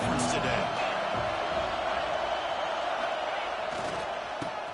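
Home stadium crowd cheering in the College Football 26 video game, a broad, steady roar under a commentator's voice, with brief whoops at the start and near the end.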